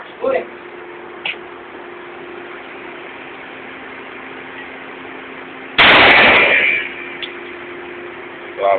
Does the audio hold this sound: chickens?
no